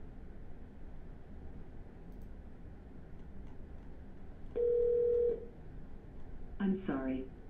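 A phone number is redialed: a steady dialing tone holds for under a second, followed by a quick burst of several DTMF keypad beeps, clear over quiet background hiss.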